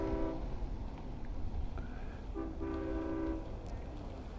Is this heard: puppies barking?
no